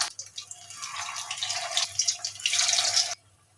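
Kebabs drop into hot oil and burst into a loud, close sizzling hiss that swells over about three seconds, then cuts off abruptly.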